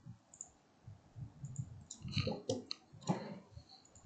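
A computer mouse clicks sparsely and faintly while someone works in Unreal Engine 5, soft irregular clicks over a quiet room with no voices.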